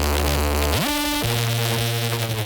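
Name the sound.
Reese bass synth in drum and bass drop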